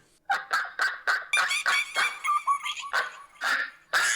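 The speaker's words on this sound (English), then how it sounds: "the sound of those randy monkeys, iguanas, and ducks procreating in Stan's Zitz bath" Comedic animal sound effect of ducks and monkeys, a rapid run of about a dozen loud honking, squawking calls in quick bursts, close and without talk.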